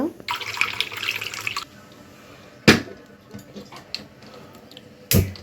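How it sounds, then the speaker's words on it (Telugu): Eggs are rubbed and washed one by one under running tap water in a kitchen sink, a close splashing rush for over a second, then quieter handling with a couple of sharp knocks. "ప్రతి ఒక్క గుడ్డు కూడా కడగాలి ఇట్లా రుద్ది కడుక్కోవాలన్నమాట"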